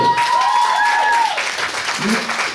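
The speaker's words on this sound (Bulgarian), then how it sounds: "Айде, аплодисменти!" A talent show audience breaks into applause after a judge's yes, a continuous crowd clapping with some tonal sounds and a voice rising over it.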